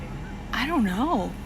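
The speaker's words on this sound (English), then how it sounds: "Sounds like birds to me." Bird calling outdoors during a storm chase: a single loud honking, goose-like call with two rising and falling swoops, close by, after a quiet start.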